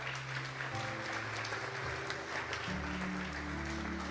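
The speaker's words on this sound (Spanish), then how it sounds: "Denle un fuerte aplauso pues al Señor." A church congregation at a Sunday service applauds loudly for the Lord, sustained steady clapping from a crowd, with a low musical drone or keyboard chords sounding underneath.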